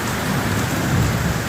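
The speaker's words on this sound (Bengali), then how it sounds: "বৃষ্টি নেমেছে।" An afternoon rain shower pattering steadily and loudly on surfaces, a dense continuous hiss with low rumbling underneath and no voices.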